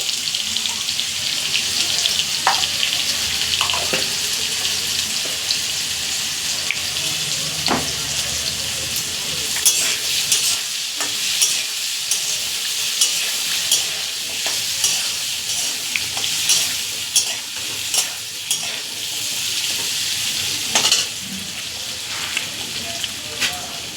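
Soybean pieces frying in oil with salt and turmeric, a constant loud sizzle broken by frequent clicks and scrapes of a spatula stirring the pan, close up and without a break.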